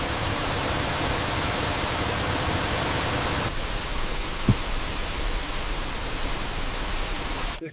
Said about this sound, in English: A waterfall. Nature already did the hard part.